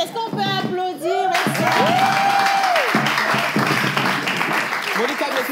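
Audience applause at a lively party event with a DJ, a burst of clapping and cheering that swells in and holds steady, while a sung or shouted voice carries over it.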